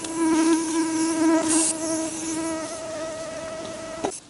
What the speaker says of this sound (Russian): Где комары?